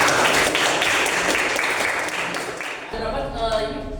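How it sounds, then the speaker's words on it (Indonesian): Audience applause in a lecture or classroom gathering, a dense wash of clapping filling the first three seconds, then thinning out as a voice starts talking over the tail end. "Beri tepuk tangan semua."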